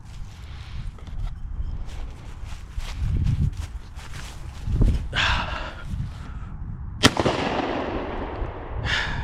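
A single sharp shotgun blast at a thrown clay disc cracks out in an outdoor setting, preceded by shuffling, wind and handling noise and followed by a fading echo.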